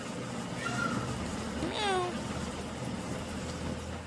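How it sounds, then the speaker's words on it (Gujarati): A cat meows once, a clear rising-falling call at moderate distance, over a low background hum with faint distant vehicle noise. "બિલાડી આવી છે"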